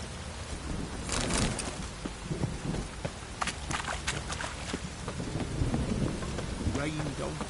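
Steady rainfall in The Witcher 3, a dense close patter of drops on surfaces with occasional louder splashes and faint low rumbles, continuing throughout without talk.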